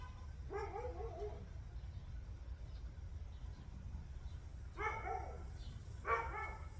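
A dog barks indoors in three short bursts, one early and two close together near the end, moderately loud over a steady low background hum with no talk.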